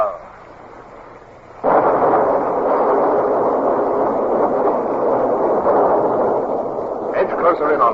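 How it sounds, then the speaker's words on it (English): A ship's broadside of cannon fire booms out in a loud, sustained rumbling roar during a naval battle against the French fleet. It follows quieter speech and continues for several seconds, with voices briefly heard near the end. "Mr. Gerard, a carefully timed broadside as you bear."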